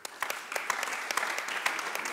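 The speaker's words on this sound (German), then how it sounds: "Aber erstmal dein Applaus für Julian" A sports conference panel audience at the EuroGames in Vienna claps for a panelist, a modest crowd whose individual sharp claps stand out in an uneven, moderately loud patter.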